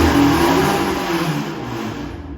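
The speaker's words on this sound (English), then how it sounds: "It sounded like a misfire." A K-swapped Honda Civic race car engine misfires while being tuned in a blizzard, a loud, close rev that starts strong and gradually sags, uneven and rough.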